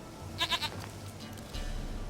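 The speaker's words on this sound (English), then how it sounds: "Here, goat." A goat in The Witcher 3 video game gives a quick run of three short, faint bleats, followed by quiet ambient game sound.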